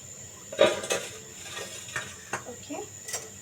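Pan of oil heating for frying luchi being swirled, with light metallic clinks and scrapes of the pan at a moderate, close level and a faint voice in the background.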